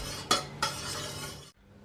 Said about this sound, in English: So you want to stir it so it doesn't scorch the sides.